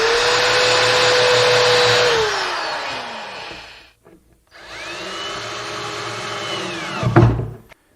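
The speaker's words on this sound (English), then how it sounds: "and then we can drill for the screws." A power drill drilling screw holes in a wall storage cabinet whines loudly at high speed, winds down, pauses briefly, then spins up again for a second run that ends with a thump.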